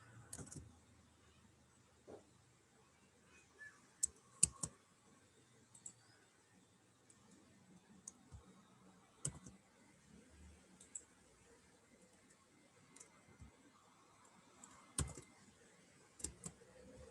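Typing on a computer keyboard during a programming lesson comes through as faint, scattered key clicks in sparse bursts over a quiet room.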